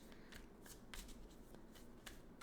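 Rapid papery riffling of tarot cards being shuffled, a soft continuous flutter with small snaps, close and quiet with no talking.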